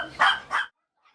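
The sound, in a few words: puppies barking in a dog breeding facility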